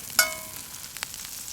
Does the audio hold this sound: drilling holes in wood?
no